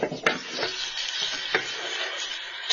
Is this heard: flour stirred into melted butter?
yes